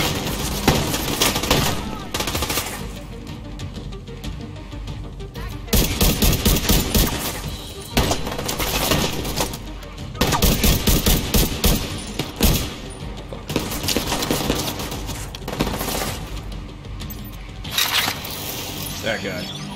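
Gunfire aimed at the player in a shooting video game comes in loud, close volleys and rapid bursts, broken by short lulls, while someone talks between them.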